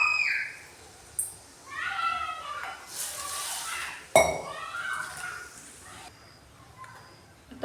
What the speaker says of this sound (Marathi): आता ती डाळ मी स्वच्छ धुवून घेणार आहे